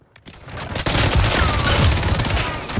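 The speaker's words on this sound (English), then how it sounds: "Multiple shots here! Multiple shooters! Taking fire!" Rapid automatic gunfire crackles in Call of Duty Modern Warfare 3 multiplayer, a loud, continuous fusillade of close shots from multiple weapons with a dense, sustained burst after a brief quiet start.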